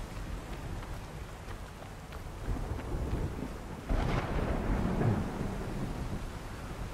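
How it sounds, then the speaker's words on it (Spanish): Thunderstorm with steady rain in the video game Horizon Forbidden West, rain hissing throughout, with a rolling crack of thunder swelling midway, no voices. "Fijaos cómo mola ahí la tormenta esa perfecta."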